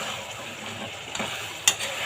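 Potatoes fry in a pan for a chickpea dish, making a continuous soft sizzle broken by a few sharp clinks and scrapes of stirring near the end.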